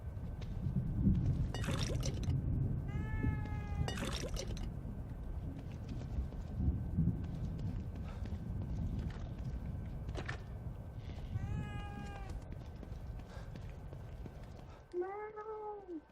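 A cat meowing in the video game The Evil Within 2, with several short meows over a muffled game backdrop and one clearer, louder meow near the end.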